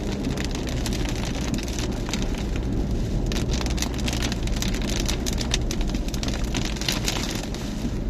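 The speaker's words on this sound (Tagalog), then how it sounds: "Medyo malakas talaga yung ulan." Heavy rain from a storm pounds steadily on a car, a dense hiss and patter over a low road rumble, with no voices.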